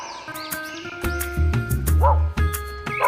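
Cartoon dog in a children's alphabet phonics song, giving several yappy barks over bouncy music with chirpy sound effects.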